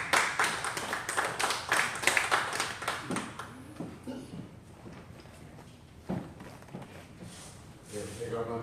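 Audience clapping to welcome a speaker, a short burst of applause at the start that fades within a few seconds, followed by footsteps, light taps and a voice speaking.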